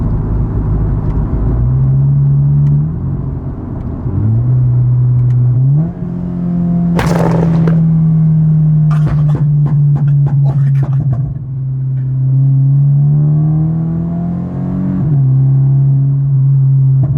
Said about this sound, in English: you can get the car to pop simply with just like pressing the gas just slightly